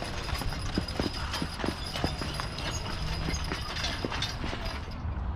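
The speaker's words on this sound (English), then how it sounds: "Here comes one of the horse-drawn carriages." A horse pulling a carriage at a family farm clip-clops past, its hooves striking in a steady, even rhythm over a constant background hum.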